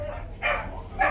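A dog aboard a Jadrolinija ferry between Croatia and Italy gives two short barks close by, over a low steady engine rumble.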